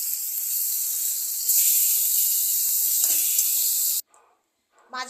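Loud, steady sizzling of fish frying in hot oil for several seconds, then it stops abruptly and a few faint clinks follow.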